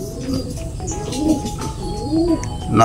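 A racing pigeon, a pooling race winner, coos in a loft with repeated low, rolling calls at close range, fairly loud over a steady background hum.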